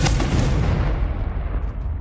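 A Confringo fire spell bursts in Hogwarts Legacy, giving one loud, close explosive boom at the start whose heavy rumble stays dense and slowly fades over two seconds, with no talk.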